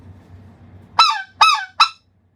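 Three sharp honking notes blown on a speckled goose call, two quick bumps and a clipped final stop, loud and close over faint background rumble.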